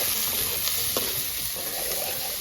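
Onions and tomatoes sizzling in very hot oil in a village kitchen, a dense, loud, continuous frying hiss with faint stirring knocks, close up and without talk.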